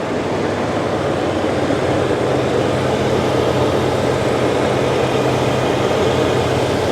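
Idling V8 of a 1989 Chevrolet Caprice Brougham, a loud, steady, even rumble with a smooth hum and no breaks from start to finish.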